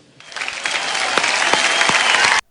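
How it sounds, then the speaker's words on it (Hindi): Studio audience on a TV show breaking into applause, a dense sustained patter of many hands clapping that swells quickly, holds steady and cuts off abruptly. "रोहित शेट्टी के इस बात पे शो में बैठे कुछ चूतिए ताली बजा रहे हैं"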